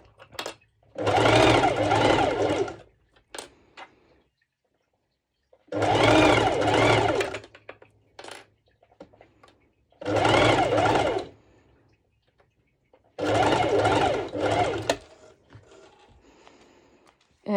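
A sewing machine stitches thin mesh fabric for a sporty top with binding straps, running in four steady bursts of about two seconds each, separated by quiet pauses where the fabric is guided.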